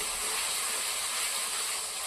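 Bay leaf, dried red chilli and whole cumin seeds spluttering in hot oil for a mutton curry, a steady close hissing sizzle throughout.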